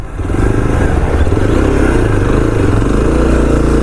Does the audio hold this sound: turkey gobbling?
no